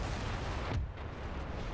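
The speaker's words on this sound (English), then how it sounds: "Cannon." Cannon fire in the video game Napoleon: Total War, a dense, rumbling barrage of booms blending into a continuous loud roar with a brief dip midway, no voices.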